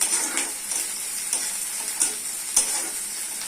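Ginger garlic paste fries with onions in a pan, a steady close sizzle broken by regular scrapes and clicks of a stirring spoon against the metal, with no voices.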